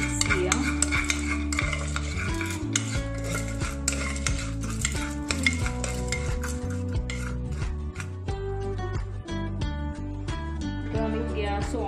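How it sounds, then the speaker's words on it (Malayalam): Popcorn kernels being stirred with coconut oil in a pot, a continuous scraping and clinking of a utensil against the pot, close and fairly loud, with music playing throughout. "ഇത് മൂന്നും കൂടെ നന്നായി മിക്സ് ചെയ്യാം"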